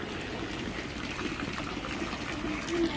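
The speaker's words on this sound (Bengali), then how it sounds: "পানি দেখো, পানি দেখো, বৃষ্টির পানি দেখো।" Rainwater runs and trickles steadily, seen from a rooftop during rain, a continuous close wash of flowing water with no clear voices over it.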